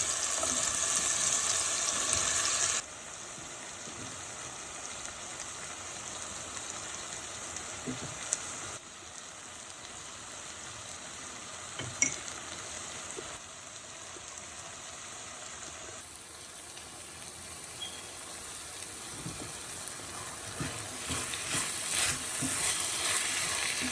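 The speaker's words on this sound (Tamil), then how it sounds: "நல்லா வதக்கணும். கட் பண்ண பீட்ரூட் ஆட் பண்ணிக்கணும்." Cut beetroot being sautéed in a pan for a Tamil beetroot kara kuzhambu, a steady soft sizzle with occasional stirring clinks and scrapes, moderately faint and continuous with no voices.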